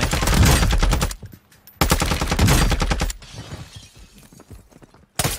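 Video-game gunfire in dense automatic bursts, loud and close, rattling in rapid streams that cut off abruptly between volleys, with a short quieter stretch of scattered shots before a final burst.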